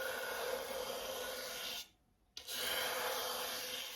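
Scratchy, rasping drag of a small graining tool pulled across a glazed furniture finish, two steady strokes separated by a short silent gap.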